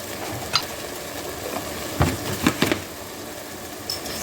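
Diced jalapenos sizzle in a pan beside homemade empanada cooking, a soft steady frying hiss broken by a few sharp clinks and stirring knocks.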